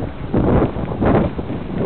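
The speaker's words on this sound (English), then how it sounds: "it's a windy day" Wind blowing on an open hill beside an old cemetery on a windy day, roaring and buffeting straight into the microphone in loud gusts that swell and ease over about two seconds, with no talk.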